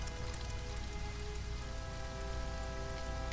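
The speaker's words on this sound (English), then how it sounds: "I like how it keeps raining as it's flying away" Steady rain inside the video game The Legend of Zelda: Majora's Mask, a continuous hiss of falling drops with faint tonal game sounds underneath, unbroken and even in loudness throughout.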